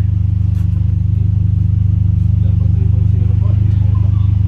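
A Honda Civic SiR with a JD Muffler exhaust idles nearby, its engine a loud, even, throbbing low rumble held throughout, with faint voices in the background.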